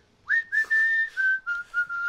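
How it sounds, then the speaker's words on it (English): A person whistles a theme song in a clear, bright melody of several sustained and gliding notes with short breaks between phrases, loud and close, with no talking. "he'll match up our theme song with me whistling"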